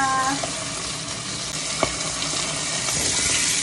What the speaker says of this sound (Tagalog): Kumukulo-kulo pa po siya.